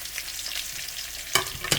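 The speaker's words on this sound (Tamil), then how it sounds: "வெங்காயத்தையும் போட்டு கொஞ்சம் வதக்குறேன்." Onions sauté in a pan with curry leaves and spices while a mutton pepper roast is being cooked. A steady close sizzle runs throughout, with a couple of sharper stirring scrapes near the end.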